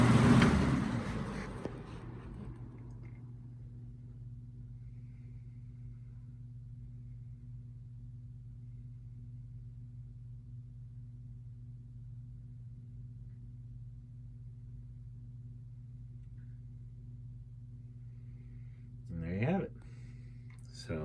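A 1989 Lasko Model 4723 box fan winds down from its high setting, leaving a steady low hum that slowly fades and stays faint to the end, with a brief louder rustle near the close.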